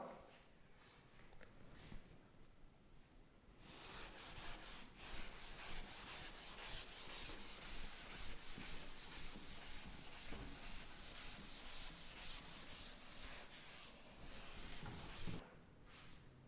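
Writing being rubbed off a classroom board, a steady close scrubbing rasp that runs for about ten seconds in rapid back-and-forth strokes, fainter softer rubbing before and after.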